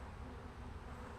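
Honey bees fanning at the entrance of a hive, a faint, dense, continuous buzzing hum with no breaks.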